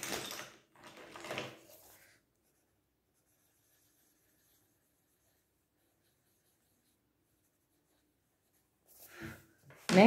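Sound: pencil drawing and coloring on paper

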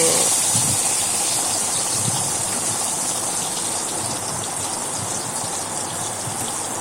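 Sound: eggplant slices frying in a pan, being flipped

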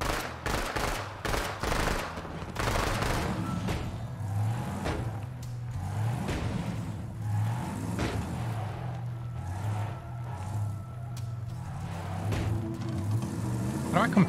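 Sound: gunfire in video game Borderlands 3

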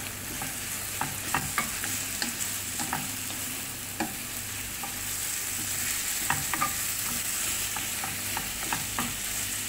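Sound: mixing ingredients with black pepper in a bowl

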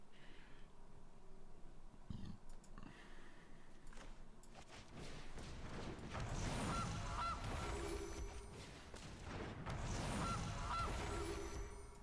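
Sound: goose honking in MTG Arena video game

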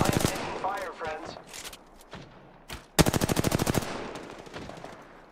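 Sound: gunfire in Apex Legends video game

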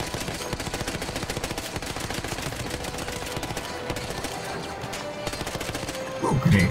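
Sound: gunfire from the video game Battlefield 1

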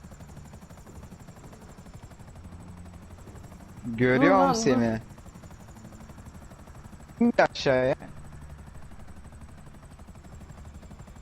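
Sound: helicopter in a video game

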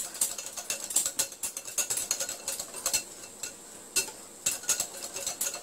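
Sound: whisking coriander fritter batter with a whisk

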